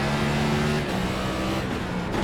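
A race car engine in the iRacing sim at Watkins Glen drones loud and steady at high revs, and a gear change shifts its pitch partway through, with no voices.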